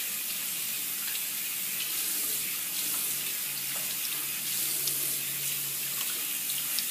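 Running water from a tap splashes steadily as a face product is rinsed off, with small splashes and drips from hands in the stream. It is close and continuous, with no speech.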